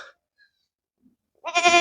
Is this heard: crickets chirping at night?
no